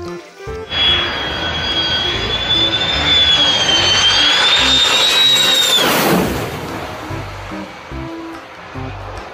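A loud military jet aircraft roars overhead, its whine rising and then sweeping down in pitch as it passes, fading afterward.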